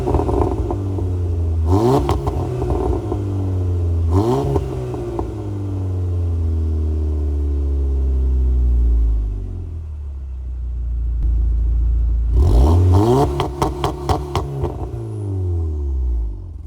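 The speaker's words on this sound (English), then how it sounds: "let me give you some revs so you can hear this car and do a little bit of some launch control action" A car's exhaust barks through repeated sharp revs during launch control, the engine climbing and falling, then holding a loud steady drone, and ending in a rapid stuttering burst of crackling pops, all close and loud.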